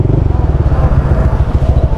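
A Honda Click 125i scooter engine runs steadily on a dyno during ECU remapping, giving a loud, rapid, throbbing low exhaust pulse with a few voices faintly in the background.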